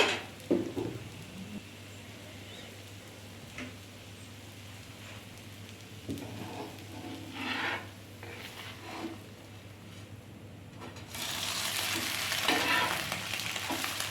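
An egg karam dosa fries on a hot pan and gets flipped, giving a steady close sizzle with scraping and stirring touches and a louder burst of frying near the end.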